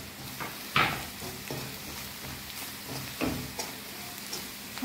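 Ground spices with crushed kasuri methi sautéing in hot oil for a dry soybean chunk curry, a steady soft sizzle with a few louder stirring scrapes in the pan.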